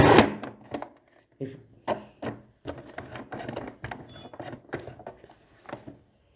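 A sewing machine stitches a tote bag in short, quiet bursts, starting and stopping repeatedly with brief pauses between runs of stitching.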